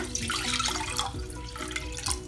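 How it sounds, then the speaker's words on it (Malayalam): Three cups of water splash steadily into a cooking pot with a faint, continuous pouring sound and small sloshing bursts. "ഇതിലേക്ക് ഞാൻ 3 കപ്പ് വെള്ളമാണ് ചേർക്കുന്നത്."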